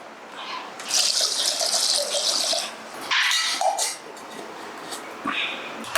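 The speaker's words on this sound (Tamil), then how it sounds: "இதுக்கு அளவாக தண்ணி ஊற்றிக்கிறேன்." Water poured into a cooking pot of millet and dal, a steady gushing splash that runs loud for a few seconds, stops briefly, then resumes in shorter pours.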